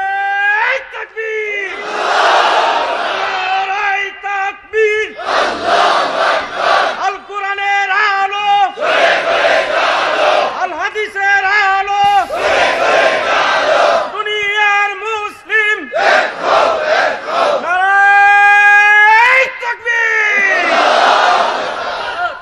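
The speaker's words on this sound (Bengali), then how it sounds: "তাকবীর দেয়া যাবে?" A large crowd at an outdoor Islamic religious gathering chanting takbir, loud unified voices rising in repeated long shouts with short gaps between them, close and powerful.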